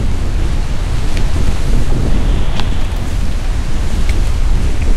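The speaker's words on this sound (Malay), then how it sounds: "Dan angin kat atas ni walaupun tak sampai ke puncak pun dah kuat." Strong, steady wind roars across the microphone high on Gunung Brinchang, around 2000 metres up in cold, wet conditions, a continuous loud buffeting rush with no speech.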